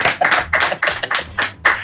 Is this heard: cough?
no